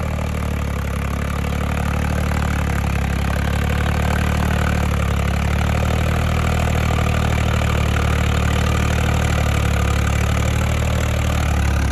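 A tractor engine runs at a steady idle out in a field, a loud, continuous low rumble with an even mechanical drone that holds for the whole stretch without revving or pausing.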